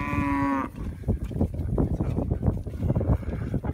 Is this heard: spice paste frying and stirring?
no